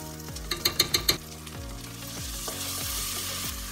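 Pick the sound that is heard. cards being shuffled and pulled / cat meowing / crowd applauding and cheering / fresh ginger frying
fresh ginger frying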